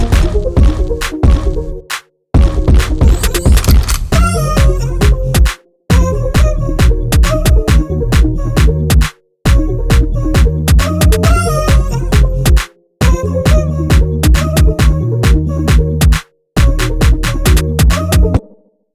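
Remake of a beat: a minimalist electronic groove with heavy bass and crisp percussive hits, broken by short abrupt gaps of silence between loud looping phrases.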